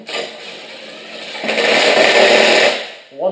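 A power tool runs a bolt into transmission hardware: a steady whirring grind that rises in intensity partway through, then cuts off briefly before a short final burst.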